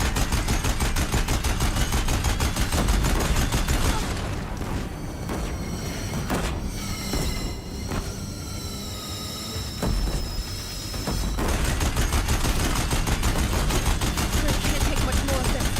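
Dense rapid gunfire rattles on a bridge in Horizon Zero Dawn Remastered, loud continuous bursts easing into a quieter stretch with scattered shots before heavy firing resumes.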